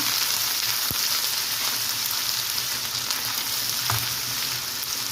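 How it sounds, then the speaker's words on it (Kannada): Fresh grated coconut frying in a little oil for mango rice, a loud, dense, continuous sizzle close up, with a couple of brief taps from a spoon against the pan. "ಸ್ವಲ್ಪ ಎಣ್ಣೆಲಿ ಹುರಿದ್ರೆ ತೆಂಗಿನಕಾಯಿ ತುರಿ ಭಾಳ ಚೆನ್ನಾಗಿರುತ್ತೆ"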